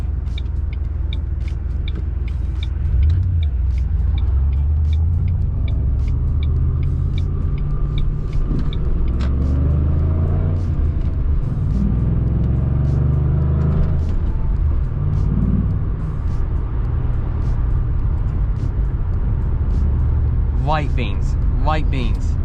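A 2009 Ford Mustang GT V8 fitted with an Airaid cold air intake and tuner kit revs while driving, a loud steady low engine rumble throughout with rising pitch near the end, a voice talking over it.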